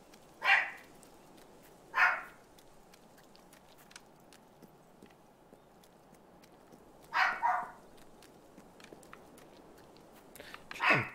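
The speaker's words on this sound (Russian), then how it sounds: "Песель орёт, интересно." A dog in Fable III barks in short, sharp bursts, four separate outbursts spaced a few seconds apart over quiet background.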